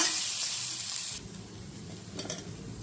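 Boiled, cut potatoes tossed and stirred into sabudana khichdi frying with curry leaves, ginger and chillies, giving a steady sizzle that eases after a second, followed by soft scraping and stirring sounds close up.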